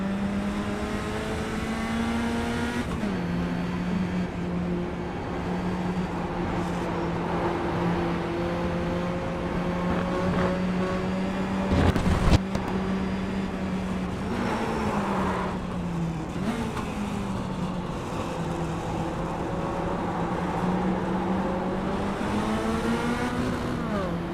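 A race car in a K5 League Super Dash Series race runs under sustained engine drone, the pitch rising through the gears with short shifts and dips, loud and close throughout with a brief sharp knock midway.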